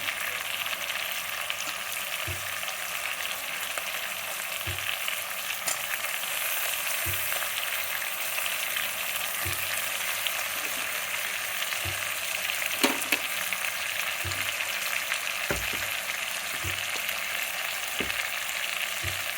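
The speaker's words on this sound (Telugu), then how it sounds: "ఇది వేగుతుంటుంది." Food frying steadily in a pan for a tomato curry of paya or lamb trotters, a dense continuous sizzle close by with occasional soft taps of a stirring spoon, no talking.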